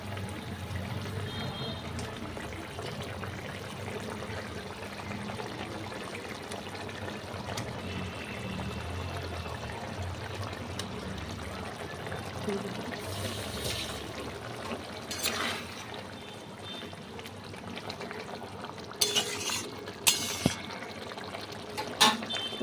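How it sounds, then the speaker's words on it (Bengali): Pabda fish slipped into boiling mustard-oil curry gravy: a soft, continuous bubbling simmer heard close up, with a few sharp clinks of utensils near the end. "এই দেখো বন্ধুরা আমার ঝোলটা ফুটে গেছে, এর মধ্যে আমি মাছ ছেড়ে দেব।"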